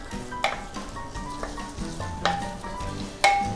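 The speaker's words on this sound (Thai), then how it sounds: "ก็ผัดเห็ดนะครับกับตัวรากผักชีกระเทียมพริกไทยนะครับให้มีกลิ่นหอมเลยนะครับ" Mushrooms stir-fried in a pan with coriander root, garlic and pepper give a steady loud sizzle, with spatula scrapes and clinks against the pan at intervals.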